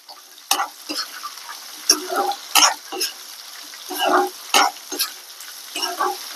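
Onion pieces hit a hot tempering of dried red chillies and sizzle up close, with repeated spatula stirs and scrapes in an uneven rhythm and a faint voice now and then.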